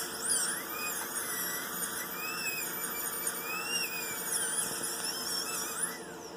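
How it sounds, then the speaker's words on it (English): Dental drill with a fine round diamond burr lightly roughening the lingual surfaces of lower teeth before a bonded retainer is fitted: a continuous high-pitched whine that wavers and squeals in pitch, steady and close, with no talk. "I'm lightly going over lingual surfaces with a fine round diamond burr"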